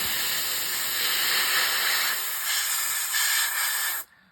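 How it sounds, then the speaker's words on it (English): Steady hiss of an airbrush in need of cleaning spraying paint onto a model kit for about four seconds, wavering slightly in strength, then cutting off abruptly. "Airbrush could do with a clean out, so it might not spray very well at the minute."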